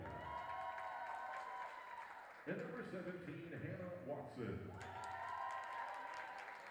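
Applause and crowd noise in a volleyball arena during the Carson-Newman versus Emory & Henry senior recognition, a sustained wash under a public-address announcer who calls out a player.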